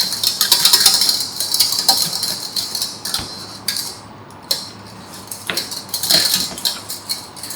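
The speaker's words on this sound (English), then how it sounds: "But you still need to keep whipping because the bottom of the bowl is hot" A whisk clatters quickly against a hot bowl while chocolate cream is whipped, a steady metallic scraping and ticking that continues with short pauses.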